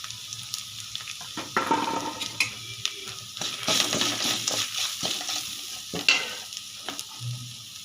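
Garlic-ginger paste and mutton masala fry and sizzle in a pan, stirred with scraping strokes, a steady close crackle broken by irregular spoon knocks against the metal.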